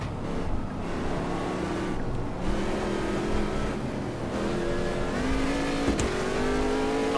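A race car roars steadily in the sim racing game Automobilista 2, engine note rising and shifting as it accelerates, with a brief knock near the end as it rams into another car.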